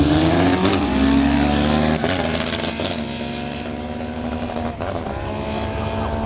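Cafe racer motorcycles race loudly past at the Glemseck 2013 meet, engines roaring and revving in waves with gear shifts as machines go by one after another, with crowd noise underneath.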